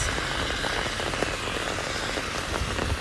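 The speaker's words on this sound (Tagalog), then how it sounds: "Grabe ulan guys" Heavy morning rain pours steadily around a bus stop, a dense, constant hiss of drops with scattered louder patters close by, no voices.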